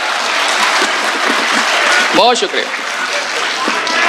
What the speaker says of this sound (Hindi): एक बार जोरदार तालियां वरुण आनंद के लिए